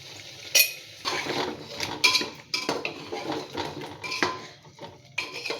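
Spice paste with potatoes stirred in a pressure cooker, a spoon clanking and scraping against the metal pot in repeated strokes over a faint sizzle, close and fairly loud.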